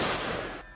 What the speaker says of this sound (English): The next sound was a gunshot